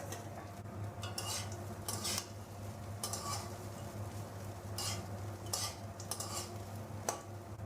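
Fried nuts, cashews and raisins being stirred into chirer polao, a Bengali flattened-rice dish, with repeated scraping and clinking of a spoon against the pan over a steady low hum and faint sizzle.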